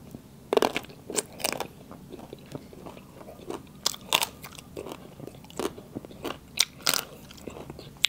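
Someone chews a crunchy golden apple snail dish close up, producing irregular crisp bites and crunches scattered over several seconds, with no one talking.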